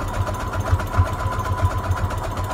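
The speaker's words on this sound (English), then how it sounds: "I'm trying to sew down the middle." A sewing machine stitches down the middle of a junk journal made from a Reader's Digest book, giving a steady, rapid mechanical hum with a regular low pulsing rhythm throughout, close and fairly quiet, with no talking.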